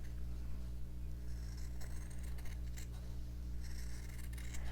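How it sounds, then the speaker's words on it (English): Repeated snipping and rasping of scissors cutting through fabric, close and fairly quiet, over a steady low electrical hum. "Then I'll just take my scissors and cut out my design."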